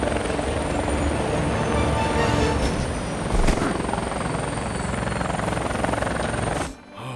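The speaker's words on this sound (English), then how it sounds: "I just fly the chopper." A cartoon helicopter flies overhead with a loud, steady whirring rotor chop that holds for several seconds, then suddenly cuts out near the end.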